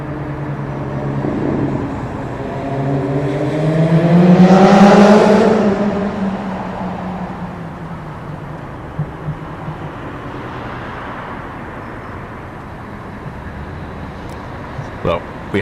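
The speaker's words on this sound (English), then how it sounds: "a noisy motorcycle came past" A loud motorcycle approaches, roars past with a rising then falling engine pitch, and fades away, leaving quiet outdoor background near a cruise port.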